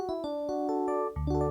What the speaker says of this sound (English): Just a basic piano sound with nothing.